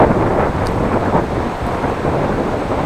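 A strong headwind hits a cyclist riding in Groningen, producing a loud, constant roar of wind buffeting the microphone with low rumbling gusts and no talking.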